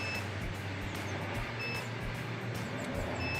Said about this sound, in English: after about 30-45 seconds, we can hear a pretty consistent beep happening